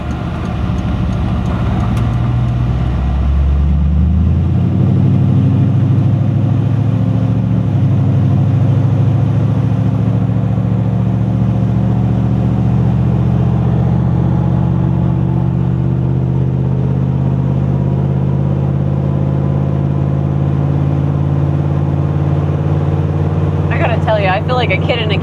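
A 1962 Chevrolet Impala station wagon restomod on the road, its engine note rising as it pulls away, then settling into a steady, loud low hum of cruising for about twenty seconds.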